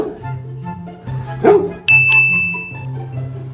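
A Golden Retriever gives a single sharp bark in answer to a simple addition sum. A bright ding follows right after, over a soft background hum.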